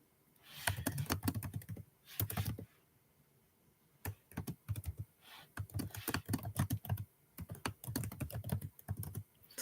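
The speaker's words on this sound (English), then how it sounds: "I'm just typing here" Rapid clicking of computer keys in several bursts, separated by brief pauses, close and fairly clear with no talking.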